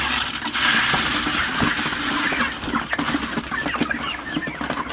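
Chickens on a farm cluck softly and peck at food off a metal pan, with scattered tapping and scraping pecks over a steady background, close by and without talk.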